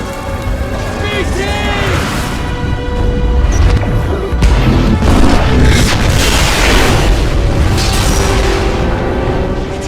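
Heavy booming blasts and rumbling roar fill the clip, with a rising tone near the start and dense crackling debris throughout, as a planet-destroying weapon explodes in the video game Titanfall 2.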